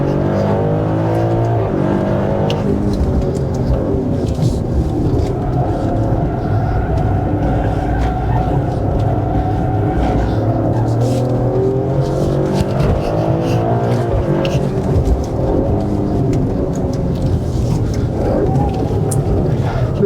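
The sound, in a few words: Maserati Grecale SUV driving fast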